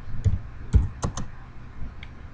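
Number keys pressed on a computer keyboard during CAD drafting work: a handful of separate, sharp clicks spaced irregularly over a couple of seconds, close and fairly quiet, with no talking.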